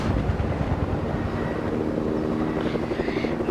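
A video-game helicopter's steady rotor chop and engine drone fill the scene, loud and continuous throughout, with no voices over it.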